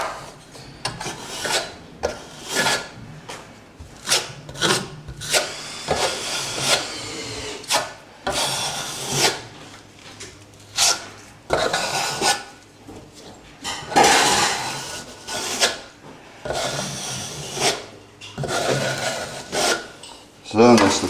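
Plaster is spread and smoothed over a hole in a wall with a trowel, giving repeated scraping, rasping strokes in irregular bursts with short pauses between, close and moderately loud.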